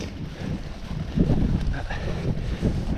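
Steady wind buffets the microphone at a breezy viewpoint on a narrow peninsula overlooking a loch, a continuous low rumbling roar with gusts swelling and easing throughout, no voices.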